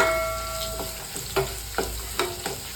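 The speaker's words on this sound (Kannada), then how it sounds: "ಇದು ಎಣ್ಣೆಲಿ ಫ್ರೈ ಆಗಿದೆ." Gooseberry chutney ingredients frying in oil in a pan on a gas stove, a soft steady sizzle broken by a few short clinks and scrapes of stirring, close by with no talk.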